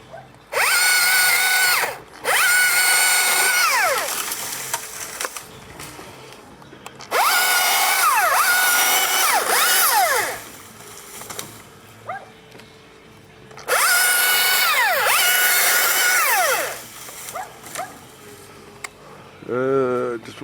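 A chainsaw cuts eucalyptus branches up in a tree, loud bursts of revving roughly every five seconds with quieter idling between; a dog barks briefly in the background.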